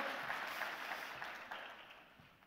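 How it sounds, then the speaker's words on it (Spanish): Applause from an audience at an agricultural expo talk, faint and distant, a soft continuous patter of claps that slowly tapers off. "se merece un aplauso, creo, este comercial"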